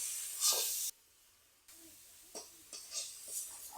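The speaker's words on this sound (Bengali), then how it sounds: "একটু ঘি দিয়ে দিচ্ছি কড়াইতে" Bursts of hissing sizzle from hot ghee in a wok, loud at first, then a brief quiet gap followed by several shorter crackling spurts.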